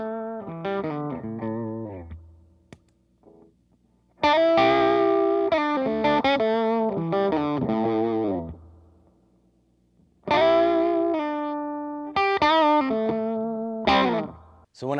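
Electric guitar played through a Hot Knife boost pedal that is switched on and off, short melodic phrases with chords and single notes that jump noticeably louder and fuller when the boost kicks in, with brief quiet gaps between passages.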